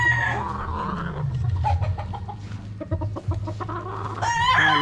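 A gray stag rooster crows and clucks close by, its calls rising over a steady farmyard background with a louder crow toward the end.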